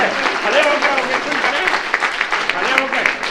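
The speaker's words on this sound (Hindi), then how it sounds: "जोरदार तालियां।" An audience claps at a religious gathering in Vatsalya Gram, Vrindavan, honouring a revered woman awarded the Padma Bhushan; a steady crowd clapping runs beneath someone speaking over it throughout.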